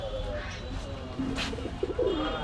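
Soft, low pigeon coos, a few burbling calls near the end over a steady background hum, at a pigeon shop in Gollamari, Khulna, Bangladesh.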